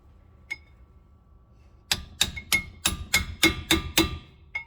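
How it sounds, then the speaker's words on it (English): A single light tap, then a pause, followed by nine quick evenly spaced metallic taps close by as a small hammer sets a front brake pad on a 2012 Dodge Journey. "Sometimes it's nice to have a little hammer."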